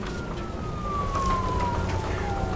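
A police car siren wails after a crash in the video game Nobody Wants to Die, a steady falling tone held over dense rumbling background noise throughout.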